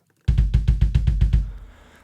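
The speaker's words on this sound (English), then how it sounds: "So the kick is this part of the drums." Kick drum sample from a drum kit, played as a run of eight quick, loud, booming thumps at a steady rhythm, each with a low punch, then a short fading tail.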